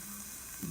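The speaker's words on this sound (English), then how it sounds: "so you can start to see, hear the sizzle. Just stirring them around." Onions and mushrooms sizzle and fry in a pan while being stirred, a steady close hiss throughout the short moment with a slight rise in loudness at the end.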